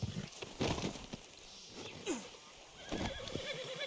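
A horse in the video game Red Dead Redemption 2 gives a close, loud whinny, then snorts and shifts with a few hoof clip-clops.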